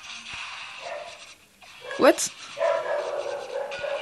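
A pet dog gives a short bark and yip in a room under a gamer's talk, with clash of Clans game sounds running throughout the background.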